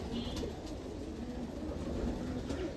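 Domestic pigeons kept for breeding give soft, low cooing, faint and intermittent against a steady background murmur. No one speaks.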